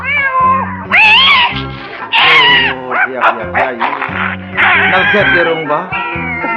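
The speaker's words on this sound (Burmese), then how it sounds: "ခွေးတွေရောကြောင်တွေရော" Several cats meow loudly and repeatedly at close range, with some dog whimpering mixed in, during a household scene. Voices talk over the animal cries.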